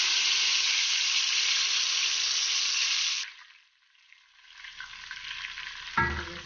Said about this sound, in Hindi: हमने अच्छी तरह फ्राई करना है।